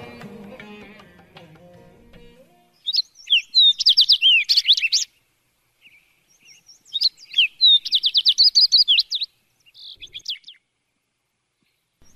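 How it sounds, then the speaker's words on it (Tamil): Koels singing in a garden as a sound effect in a stage drama: bursts of bright, rapid chirping calls arrive in repeated phrases after a brief fading low musical tail, with silent gaps between the songs. "பாடித் திரியும் குயில்கள்"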